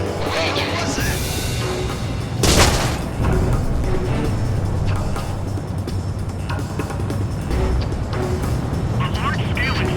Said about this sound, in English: A large-scale explosion has apparently occurred in midair.